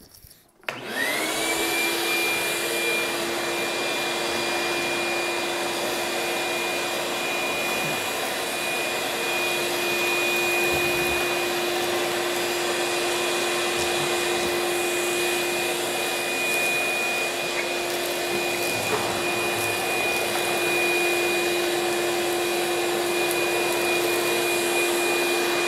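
A 14-gallon Shop-Vac wet/dry vacuum rated 6.0 peak HP runs steadily, its loud motor whine and airflow roar holding unbroken as it sucks up wood debris from a floor, starting up with a rising tone and continuing alone without talk.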